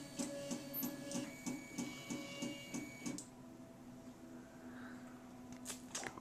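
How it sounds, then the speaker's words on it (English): A Prusa Mendel Iteration 2 3D printer drives its print head to the home position with rhythmic stepper-motor whirring pulses, then falls to a quieter hum with faint clicks, all heard up close without any talking. "it's moving the print head all the way down to its home position"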